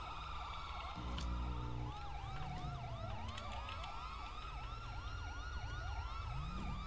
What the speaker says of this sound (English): if we can get some of these sirens